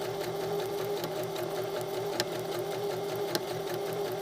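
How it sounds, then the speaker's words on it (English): A sewing machine stitches a blind hem with a fast, even mechanical chatter and a pulsing motor hum, close and steady, with a couple of brief clicks along the way. "now I just have to sew, and I'm hemming."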